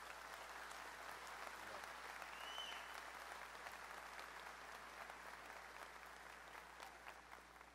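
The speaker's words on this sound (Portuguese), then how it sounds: "Eu queria que vocês aplaudissem ao Senhor pela vida deles." A church congregation applauding at a conference, a dense, steady wash of clapping from many hands that fills the room and slowly tapers, with no voices standing out.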